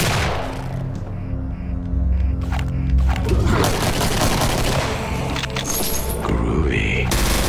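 In Doom 2, two guns fire together in rapid volleys, loud and close, in a dense clatter with heavy thumps, while a character voice speaks over the shooting.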